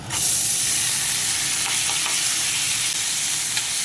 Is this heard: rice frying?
yes